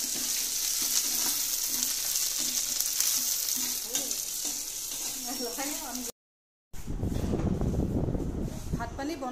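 Fish fry in a hot pan with a steady, close sizzle and crackle, broken by a brief cut to silence before the frying resumes louder and fuller.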